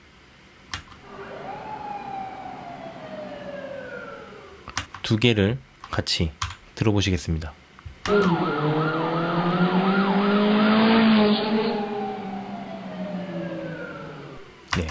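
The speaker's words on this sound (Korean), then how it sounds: "요 슬로우 모션이 들어가는 구간의 사이렌 소리는" A siren sound effect used in video editing, with wailing rising and falling tones layered into a slow-motion section, interrupted by a burst of clicks and another voice; a person speaks briefly over it.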